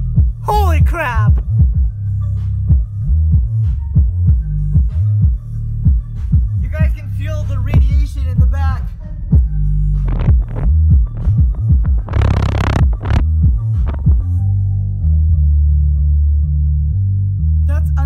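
Deep throbbing bass pulses from a Klipsch subwoofer paired with a soundbar, thumping in a steady rhythm that fills the room loudly, with people talking over the low end for much of the stretch.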